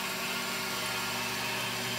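A CNC-converted 9x20 metal lathe spindle spins at 1,000 RPM, giving a steady mechanical hum and whine that holds level and continuous throughout.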